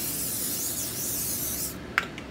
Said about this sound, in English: spraying it with a little bit of cooking spray